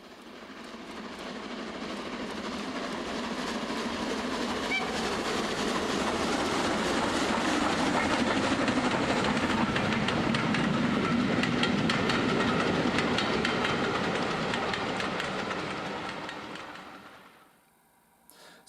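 A Hornby TTS sound decoder fitted in a Dapol O gauge Class 08 model shunter gives a steady, continuous locomotive rumble that swells in, holds for many seconds and fades out near the end.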